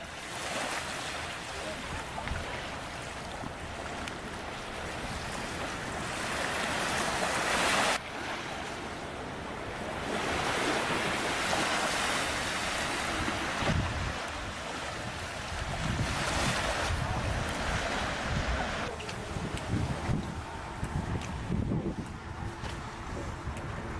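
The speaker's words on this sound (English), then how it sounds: "Beach on Iona." Surf rolls steadily onto a beach on the Isle of Iona, a broad continuous wash of breaking waves with gusting wind buffeting the microphone and no voices.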